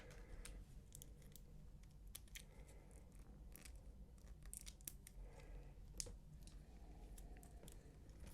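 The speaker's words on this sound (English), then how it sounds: "So I'll get some scissors to this because I know they're difficult." Scissors snip at stiff plastic battery packaging in a quiet room, with faint, irregular clicks and crisp cuts scattered across the whole stretch.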